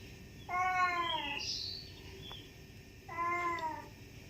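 Two drawn-out cat meows, close and clear, separated by a pause, over low background hum.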